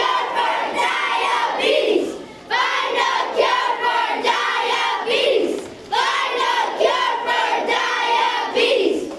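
Elementary school students chanting a cheer together in loud, rhythmic unison phrases, repeated twice with short pauses between, close and energetic, crowd voices alone without separate talk.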